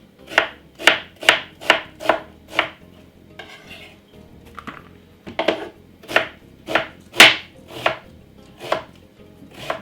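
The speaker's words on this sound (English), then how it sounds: "Very finely cut up. And some white onion." White onion is chopped finely with a knife on a board in a series of sharp, close, evenly spaced chops, a quick run of about six, a short pause with light handling, then another steady run.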